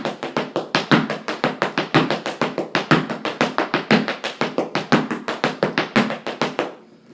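Irish step dance hard shoes tapping out a fast, steady bang-and-toe rhythm, dozens of crisp, evenly spaced taps with no talk, ending abruptly.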